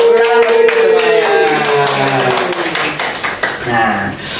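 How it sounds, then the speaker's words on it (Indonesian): A group claps hands in applause at a gathering, steady crowded patter throughout while a voice talks over it, with a sustained tone and some music-like ringing in the mix. "Tepuk tangan semuanya."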